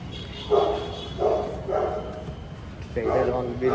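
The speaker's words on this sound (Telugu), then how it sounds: "కుక్క అరుస్తుంది బయట ఒకటే." A dog barks outside in a few separate bursts, moderately close, with some whimpering yips between them.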